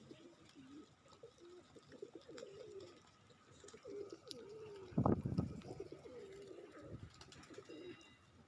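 Pigeons coo softly and repeatedly, their low rolling calls overlapping at close range, with a brief flutter of wings midway through.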